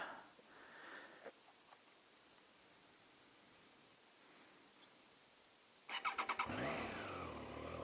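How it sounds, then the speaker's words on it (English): An old Triumph motorcycle is started after a near-silent stretch: a quick burst of cranking pulses, then the engine catches and settles into a loud running idle close by. "let's crank the old Triumph up"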